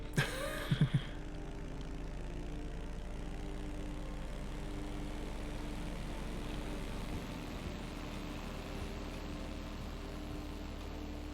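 Steady low droning rotor and engine hum of a police helicopter in the game Walking Simulator 2020, constant throughout, with a few brief clicks at the start and a slight drop in level near the end.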